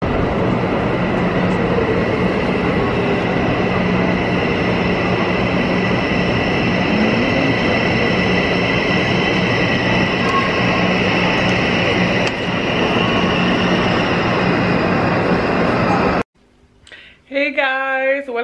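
A train rumbles steadily past at close range at a Paris train station with a loud, sustained roar and whine, then cuts off abruptly, followed by a brief unclear sound.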